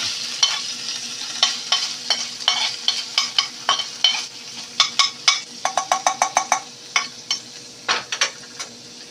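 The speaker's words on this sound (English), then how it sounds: "we just need to saute this for about 2 minutes" Pork loin pinwheel filling sautéing in a pan, marked by quick scraping stirs and clinks over a soft sizzle, with a busy run of rhythmic strokes in the middle and no speech.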